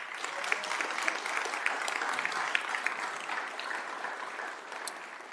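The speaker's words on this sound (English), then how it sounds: "Let's give a round of applause for the work and the legacy of Mr." Sustained audience applause at a City of Columbus Black History Month celebration and awards ceremony, a dense, steady patter of many hands filling the room without a break.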